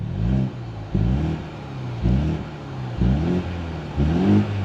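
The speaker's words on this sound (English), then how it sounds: "Very sporty exhaust sound." A 2024 Mini Cooper S engine revs repeatedly in short bursts, five throaty blips with a sporty exhaust growl, close and fairly loud.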